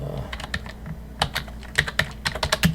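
Rapid clicking of a computer keyboard as someone types C code on a Raspberry Pi, bursts of close keystrokes with brief pauses, no talk.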